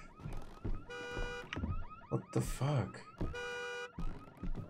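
In the horror game Visage, a car alarm blares through alternating pulsing tones and rising wails, starting and stopping repeatedly, while a man briefly exclaims over it.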